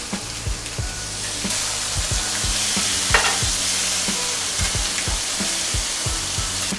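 Tofu sizzles and fries steadily in a hot grill skillet, a continuous bright hiss with repeated low knocks and scrapes as pieces are moved around, alone without voices.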